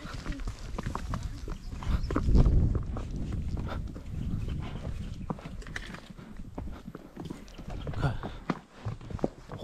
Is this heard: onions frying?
no